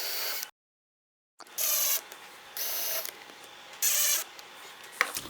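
A power drill drives screws into holes in a router table in three or four short whirring bursts separated by brief pauses, close and fairly loud, with no talking.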